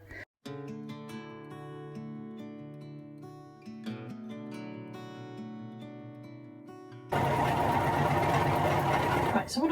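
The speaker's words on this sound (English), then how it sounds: "I'm at the sewing machine." A sewing machine stitches fleece fabric for a dog coat, breaking in after a stretch of music as a loud, steady, close mechanical whirring that runs to the end.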